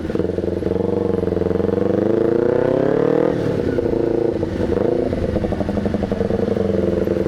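Kawasaki Ninja 250R twin engine running through an SC Project exhaust, revving up steadily and then dropping back to a rough, throbbing idle, loud and close throughout.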